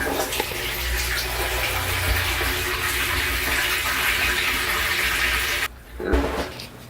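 Water gushes steadily and loudly into an aquaponics tank of about 27 gallons, a continuous rushing stream that cuts off near the end with a few splashes.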